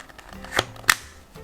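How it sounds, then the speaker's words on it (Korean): Two sharp plastic clicks, about a third of a second apart, as the pieces of an embroidery hoop frame are snapped over fabric, close and alone in a quiet room. "그 다음에 찰칵찰칵 끼우면 돼요."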